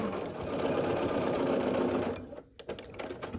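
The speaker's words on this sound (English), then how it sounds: "I'm going to sew the half square triangles first, and I'll add that triangle at the end." A home sewing machine stitches quilt half-square triangles in a fast, continuous whir for about two seconds, then stops, leaving quieter handling and fabric noises.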